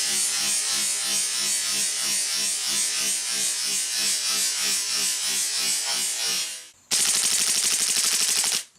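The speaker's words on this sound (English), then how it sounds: "I just want to see how many mags in full auto the CO2 will work on." Airsoft Magnum Research Desert Eagle L6 CO2 pistol firing full auto, a long rapid rattling burst of evenly spaced shots lasting several seconds, then a brief pause and a second, faster and louder burst that ends abruptly, close and with no talking.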